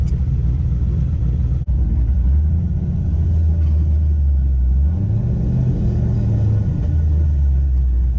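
A twin-turbo C5 Corvette idles on a hot day, a steady deep low rumble close by with the engine note wavering up and down slightly, alone without talk.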